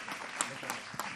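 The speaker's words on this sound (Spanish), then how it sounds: "un fuerte aplauso para ambos, por favor" Audience applause at a panel discussion on migration and the labour market, a faint, brief patter of clapping with a few sharper claps standing out.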